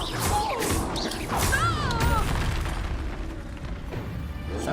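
A spell cast in the Hogwarts Legacy video game lands as a booming, crashing burst with a whooshing magical sweep. It sits among busy combat noise, with a rumbling low end and a few brief warbling tones.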